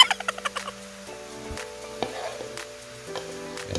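Beef lungs dropped into a hot pan for bopis, a quick burst of crackling sizzle and clatter at the start, then a low steady frying hiss with a few spoon knocks.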